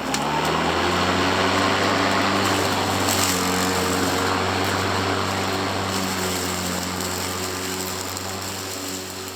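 Kobalt electric lawn mower cutting grass on its lowest deck setting, a steady close whine with a constant motor hum that eases slightly toward the end, alone without voices.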